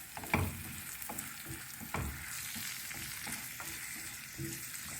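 Vegetable cake ingredients of carrot, zucchini and egg with ground almonds fry and get stirred together in a pan, giving a soft steady sizzle with a few scraping stir knocks, close and fairly quiet, with no talking.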